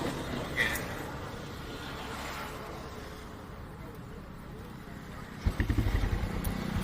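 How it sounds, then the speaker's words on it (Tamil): A Royal Enfield Bullet motorcycle fires up near the end and settles into a quick, deep thumping idle. Before that there is talk and faint background noise. "அப்படியே ஸ்டார்ட் பண்ணுங்கண்ணா, பார்க்கலாம் வண்டி கண்டிஷன்."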